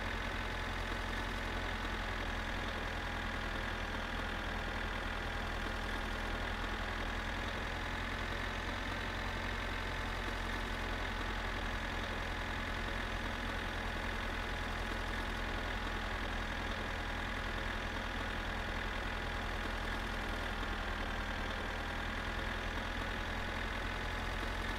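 Slow tractor engine idling steadily in a video game, a constant low mechanical hum with a faint knocking texture, unchanging and moderately quiet throughout with no voices.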